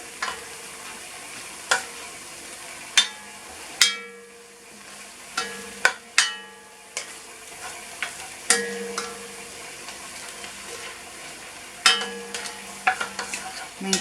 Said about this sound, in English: So that's the oyster mushrooms in. Get a good old stir.